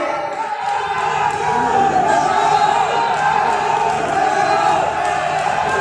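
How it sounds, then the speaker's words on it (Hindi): A large crowd at an Indian government solar manufacturing plant foundation-stone ceremony applauds loudly to welcome the chief guests, a continuous roar of clapping and cheering that holds steady throughout. "जोरदार तालियों से हमारे मुख्य अतिथियों का हम स्वागत करते हैं"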